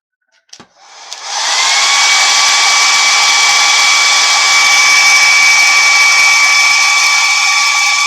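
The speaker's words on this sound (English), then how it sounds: "I'm going to hit it with a hairdryer." A hair dryer runs steadily for about seven seconds after a brief click and start-up, blowing loud and close to dry glue or paint on a handmade bolo tie, with a constant whine over broadband air rush.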